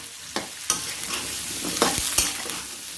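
Snow peas stir-fried in hot oil with large prawns, a bright sizzle punctuated by several sharp scraping spatula strokes and clacks against the pan, close up with no voices.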